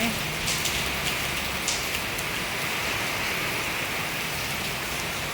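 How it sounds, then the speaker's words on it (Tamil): Heavy rain with strong wind in Chennai pours down in a dense, constant hiss, with a few louder splashes near the start. "சவுண்டு மழை அதிகமாகிடுச்சு"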